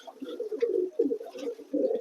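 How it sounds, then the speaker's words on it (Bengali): Pigeons let out of their loft for a bath on a hot day coo in a close, steady series of soft, low throaty calls with brief gaps between them. No one speaks. "সব পায়রাগুলোকে ছেড়ে দিই একবার স্নানের জন্য"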